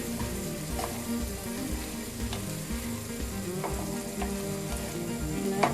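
Garlic cloves and chopped chillies sizzle steadily in a pan for a mixed vegetable stir-fry, with soft stirring scrapes and clinks over a continuous fry at a moderate, close level.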